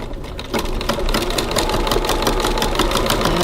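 A sewing machine stitches a bag near a window seam at a stitch length of 3.2, running in a fast, steady mechanical whir with rapid needle ticks, close and loud with no talking.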